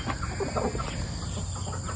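Hens cluck and murmur steadily on a homestead farm during morning feeding, a continuous low chatter of several birds close by with a constant high hum behind.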